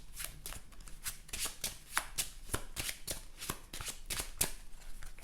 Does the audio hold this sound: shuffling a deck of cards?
yes